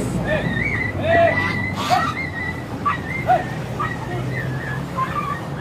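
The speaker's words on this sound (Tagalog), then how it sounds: "May mga aso din." Dogs in crates bark and yip in short bursts with a few whimpers at a busy pigeon market, over a background of crowd noise and talk.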